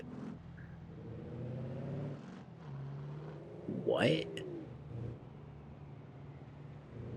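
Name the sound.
car engine with Toyota Supra transmission in BeamNG.drive video game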